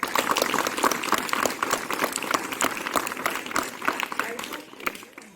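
A crowd at a school event claps steadily, many hands together in a sustained round of applause that fades out at the end.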